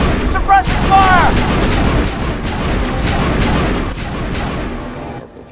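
Sustained gunfire and suppressing fire in the video game Mass Effect: loud, dense, continuous shooting and booms mixed with game sounds, rumbling steadily for several seconds before fading out at the end.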